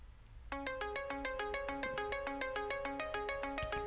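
Synth notes with ping pong delay, a bright, evenly pulsing repeated pattern that starts abruptly and rings on with spacious echoing repeats.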